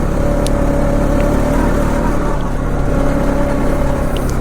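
A 2020 Honda Rancher 4x4 ATV engine runs loud and close while riding in higher gears, a continuous droning hum with steady pitch and no talking over it.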